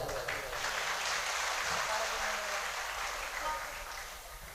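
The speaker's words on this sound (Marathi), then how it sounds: "तर एकदा जोरदार टाळी वाजवा" An audience at a bhajan evening claps together in a dense, sustained burst of applause that holds steady for several seconds before slowly tapering off.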